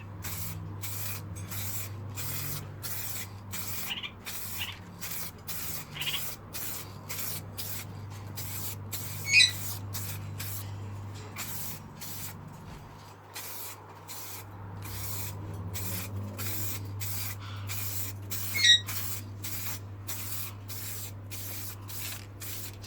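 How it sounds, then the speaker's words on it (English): A long continuous hiss of spray painting a Lexus IS200 body kit from about 6-10 inches away, with rapid regular pulsing, close by over a low steady hum, with two brief sharper knocks. "Spraying about 6-10 inches away."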